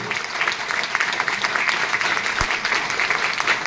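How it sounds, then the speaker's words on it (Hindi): Enthusiastic applause from a seminar audience in Dehradun, dense steady clapping filling the room for several seconds with no talking. "तो सर के लिए पहले तो देहरादून वाली तालियां थोड़ा बजा दीजिए"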